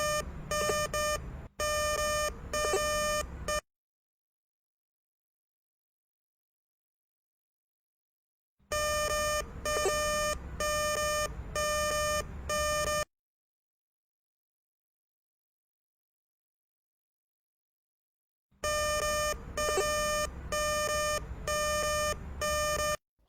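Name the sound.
GER Detect Titan 400 metal detector precious metal signal tone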